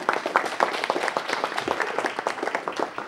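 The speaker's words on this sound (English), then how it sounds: "So everyone, please give them a round of applause." Audience applause for students at a council meeting, a steady patter of many hands clapping in a hall for about three seconds, with no talk over it.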